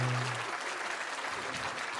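A crowd applauds with steady, dense clapping throughout, moderately distant, filling the room without pause.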